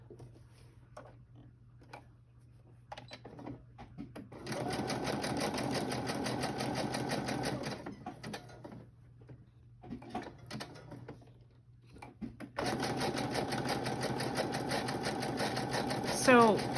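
A home sewing machine zigzag stitching a utensil bag, two steady buzzing runs of rapid needle strokes separated by quieter gaps, close by, with talk in the pauses.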